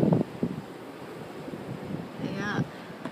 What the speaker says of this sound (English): I hear a big wind gust.